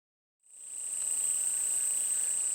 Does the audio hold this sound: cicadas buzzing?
yes